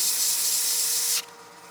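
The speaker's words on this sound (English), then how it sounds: "So I'm sanding just up to, but not over." Steady abrasive hiss of sandpaper rubbing against wood spinning on a lathe, fairly close, then cutting off abruptly near the end leaving a low hum.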